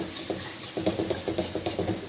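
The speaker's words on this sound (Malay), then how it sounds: "Kita goreng sambal kita." Steady frying sizzle of sambal in a pan with soft stirring scrapes, close and continuous, no voices.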